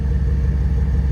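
A 2007 Ram 1500 pickup with its exhaust dumped behind the rear axle gives a low, steady rumbling exhaust note, close and continuous with no voices over it.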